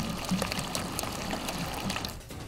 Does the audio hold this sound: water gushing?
yes